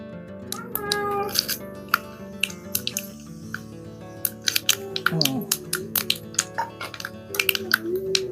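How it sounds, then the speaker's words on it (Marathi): Curry leaves, cumin, mustard seeds and sesame seeds tempering in hot oil in a village-style kitchen, a loud close crackle with sharp popping bursts throughout as seeds spatter, with brief speech over the sizzle. "बघा मस्त तडका लागला कढीपत्ता जिरं मोहरी तीळ मित्रांनो आवाज पण छान येतोय"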